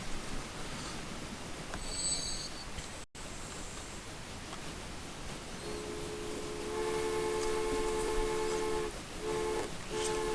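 A train runs in the transport simulation game Transport Fever, with a steady rumbling noise bed that swells midway while sustained metallic whine tones rise over it, no voices.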